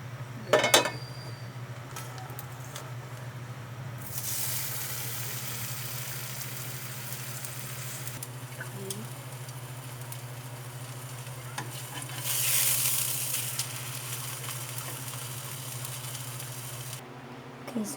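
Ham frying in a pan with a little oil gives a soft, steady sizzle. Occasional clinks of a utensil against the pan sound alongside it, with a low hum underneath.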